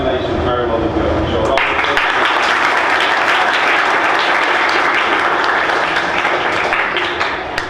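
An audience at a high school prize-giving program claps for a student winner, dense loud applause rolling steadily throughout, with a voice heard briefly over the first second or so.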